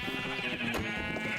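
A Minecraft sheep bleating, one drawn-out wavering bleat, clear and close, with no talking over it.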